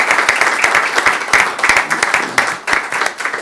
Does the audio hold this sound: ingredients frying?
no